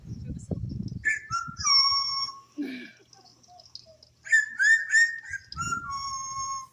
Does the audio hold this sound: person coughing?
no